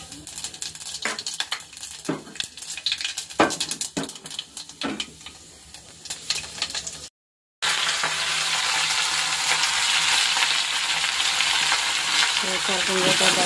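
Panch phoron spices dropped into hot oil in a pan, preceded by a few clinks and stirring taps, then a sudden loud, steady sizzle bursting up close and continuing to the end.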